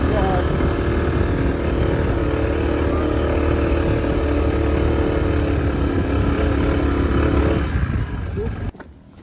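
A motorcycle climbs a steep trail at Camp Sinai in San Mateo, Rizal, its engine straining in a loud, steady drone up close for most of the stretch before dropping off near the end.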